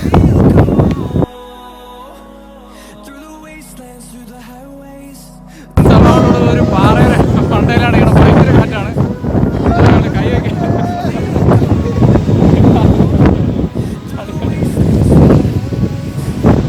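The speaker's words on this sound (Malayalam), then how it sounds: "ഭയങ്കര കാറ്റാണ്" Strong gusting wind on the Ponmudi hilltop hill station buffets the microphone in a loud, continuous broadband roar, briefly dropping away before a quieter tonal passage, then surging back for the remainder.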